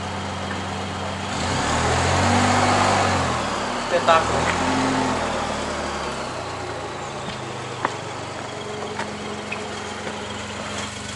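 A Ford Ka Titanium's small engine revs up as the car pulls away uphill on a slope, rising for a couple of seconds and then settling to a steady hum, with someone talking over it.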